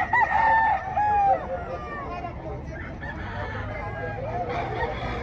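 A rooster kept for cockfighting, one of several sold in Lipa City, Batangas, crows loudly and close in the first second and a half, followed by softer clucks and faint farmyard noise.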